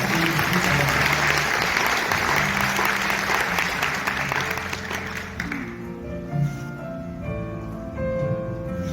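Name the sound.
audience applause welcoming the education superintendent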